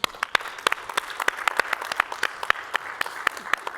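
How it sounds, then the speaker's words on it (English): Applause from an audience at a tech conference session, a steady patter of many hands with sharper individual claps standing out, moderately loud and free of speech. "We need to give the Jamf team a round of applause"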